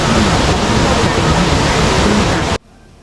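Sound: Tat Kuang Si limestone waterfall

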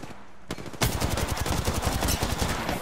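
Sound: gunfire in the video game Apex Legends

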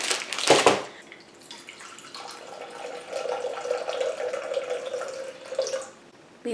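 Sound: water poured into blender for acai bowl

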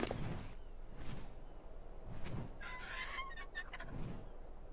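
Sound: weight-carrying bird creature calling in video game ARK

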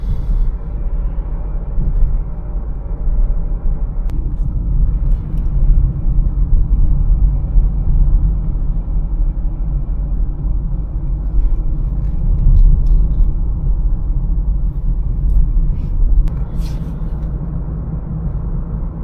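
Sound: Mazda CX-3 engine accelerating uphill

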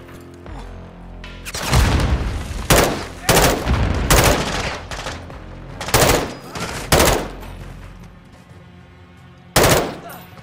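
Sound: gunfire and grenade in video game Call of Duty Modern Warfare 2

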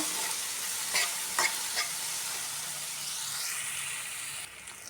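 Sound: brinjal frying and being stirred in a pan on medium flame

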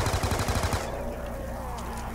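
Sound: LMG gunfire in a video game

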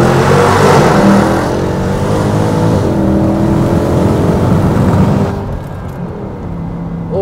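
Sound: Mercedes C63 AMG engine revving

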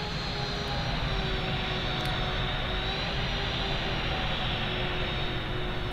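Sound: Jet2 aircraft landing

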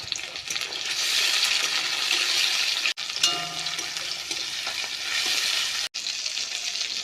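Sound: chopped tomato frying with onion in a pan

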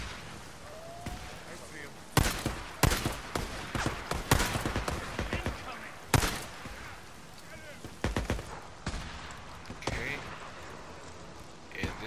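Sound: sniper rifle gunfire in video game Days Gone

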